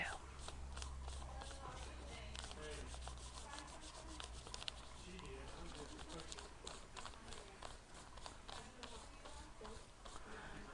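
A crayon rubs over a plant laid under paper, making a steady, soft, scratchy rasp that continues without a break.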